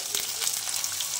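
Chopped onion frying in hot oil in a pan for instant shev bhaji, giving a steady, close, bright sizzle with faint crackles through the whole short stretch; no voices.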